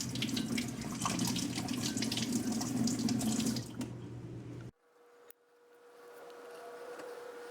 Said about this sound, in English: So I'm now going to rinse this.